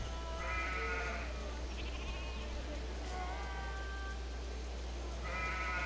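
Sheep bleat in the Civilization 5 game world, several short wavering calls near the start, middle and end, over a steady low game hum with some background voice.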